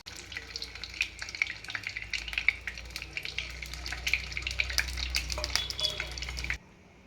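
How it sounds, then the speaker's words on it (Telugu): Boiled eggs frying in oil in a kadai: a steady, close crackling sizzle with dense spitting pops and occasional scraping, running continuously and then cutting off abruptly near the end. "ఇప్పుడు మనం ఫస్ట్ ఉడకబెట్టుకున్న ఎగ్స్ని ఫ్రై చేసుకుందామండి"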